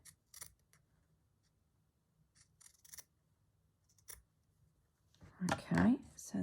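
Scissors snip through lace in a few quiet, scattered cuts, close and soft, followed by a person beginning to speak.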